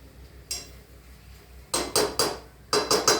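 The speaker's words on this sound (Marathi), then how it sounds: "आता यातला सॉस सगळा निघावा म्हणून मी ह्याने थोडंसं हलवते" Spicy pasta sauce stirred in a pan, heard as sharp metallic clinks and scrapes of a utensil against the pan, one early knock followed by two quick clusters of three rhythmic strokes, close and clear.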